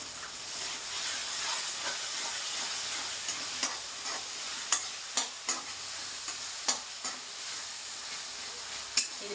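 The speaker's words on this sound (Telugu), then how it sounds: "ఇది పచ్చివాసన పోయే వరకు కొంచెంసేపు ఇలా కలుపుతూనే ఉండాలి." A spoonful of ginger garlic paste is fried in a pan for Andhra fish curry, giving a steady close sizzle and hiss broken by sharp clicks of a spoon scraping and stirring, with no voices.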